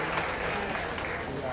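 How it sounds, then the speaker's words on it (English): An audience at a 2015 sheep show claps for the exhibitors in the ring, a dense, continuous round of applause that holds steady throughout. "Let's give these southbound exhibitors a nice round of applause."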